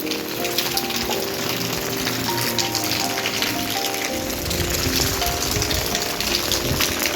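Rain falls steadily at the grounds of the old Itachuna royal palace in Hooghly. The hiss is dense and continuous, with no voices.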